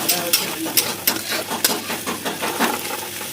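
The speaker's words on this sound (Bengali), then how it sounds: "রসুন ভাজা হয়ে গেছে" Garlic frying in a pan, a steady sizzle with repeated scraping stir strokes at a fairly even rhythm, close and clear, with a voice talking over it.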